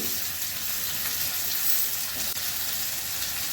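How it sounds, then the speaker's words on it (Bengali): Prawns go into a hot frying pan, a steady close-up sizzle of shrimp frying in oil for a Bengali prawn and taro curry, continuous and even with no talking over it. "এবার আমি চিংড়ি মাছগুলো দিয়ে দিচ্ছি"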